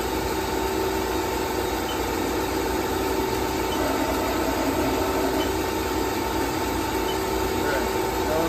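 The milling spindle drive of a Haas TL-15B lathe runs at changing speeds, giving a steady dense mechanical whine and hum with tonal lines, continuous and fairly loud throughout.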